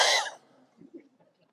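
A person imitates a cough, one loud harsh burst at the start followed by a few faint breathy sounds, close and alone with no talking.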